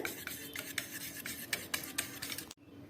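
Yogurt and cashews are whisked together in a bowl, making rapid, rhythmic scraping strokes close by that stop abruptly.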